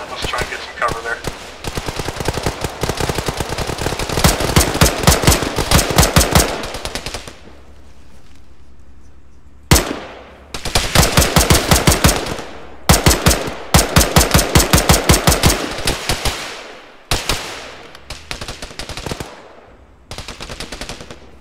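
Rapid bursts of automatic gunfire ring out in a video game, several loud, close volleys separated by short pauses, with occasional faint voices between them.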